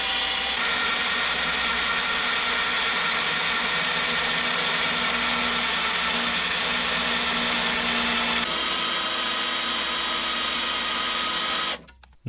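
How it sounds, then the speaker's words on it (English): A power drill with a 1/8 inch bit bores a pilot hole into a rusty spot weld on a Mercury Sable station wagon's inner rocker panel, a loud steady whine that drops in pitch partway and cuts off abruptly at the end. "And here comes our 1/8 inch drill bit again for the pilot hole."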